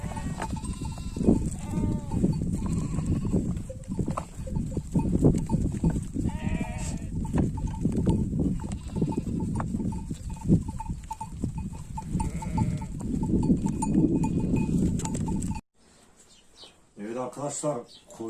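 A flock of sheep and goats bleats repeatedly while being herded home from a mountain pasture, with overlapping calls near and far over steady outdoor noise before a sudden quiet near the end.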